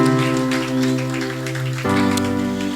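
A church congregation applauds in a dense, rain-like patter of many hands over sustained keyboard music, which shifts to a new chord partway through.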